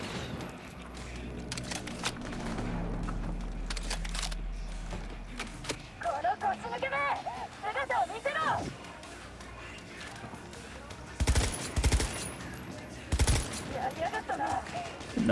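Gunfire in the video game Cyberpunk 2077 crackles in sustained automatic bursts early on, then gives way to a pause with voices, followed by a couple of sharp, loud shot clusters near the end, with a player talking over the action.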